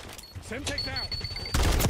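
A Semtex grenade is thrown in a shooter video game, ending in a sudden loud burst of gunfire and blast noise after a short spell of voice and a thin tone.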